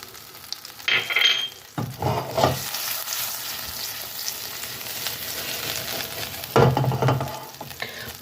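Butter sizzles and fries in a pan, a constant crackling hiss swelling into louder bursts as it is stirred, close up with no talk.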